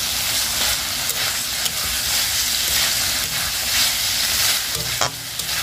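Potatoes and pointed gourd sautéing in a pan, a loud continuous sizzle and hiss with constant stirring scrapes close by, no talking.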